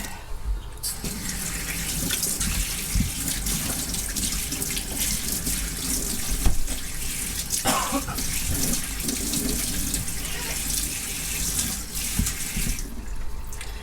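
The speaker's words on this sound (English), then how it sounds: "That all needs washing now. Let me just get all this washed." Leeks and potatoes washed under a kitchen tap, with running water streaming steadily into the sink for the whole stretch and small splashes and clatters of vegetables being handled, close and fairly loud, with no talk.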